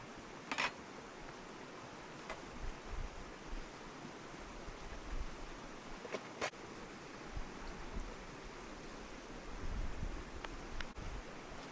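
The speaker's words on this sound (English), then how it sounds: "I do prefer to hear the sound of the water" Steady, quiet creek water flow with a soft broadband wash, occasional faint clicks and taps over the top, no voices, at a snowy campsite.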